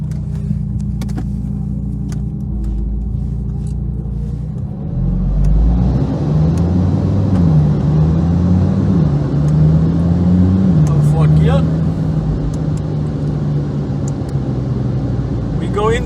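An Audi TT RS MK1 engine on a dyno during a power pull, rising from a low idle rumble into a loud, sustained, climbing roar that holds steady near the microphone, with a voice over the opening seconds.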